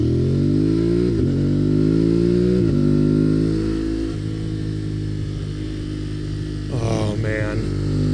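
A Yamaha Tuareg motorcycle with an aftermarket exhaust combo accelerating through several auto-shifts, each gear change marked by a drop and climb in the loud, close engine note, ending in a sharp rev blip.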